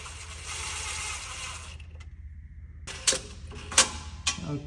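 A ratchet snugging up the transmission pan bolts on a 2019 Ford diesel, with a steady mechanical hum and then several sharp, close metallic clicks in short succession.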